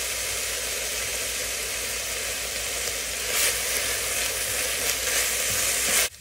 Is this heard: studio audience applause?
no